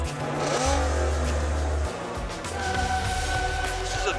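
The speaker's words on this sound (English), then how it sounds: "Listen to that. V12 Rumble." A V12 sports car engine revs with a deep, loud low rumble at close range, holding a steady throb that dips briefly and then returns with a rougher idle.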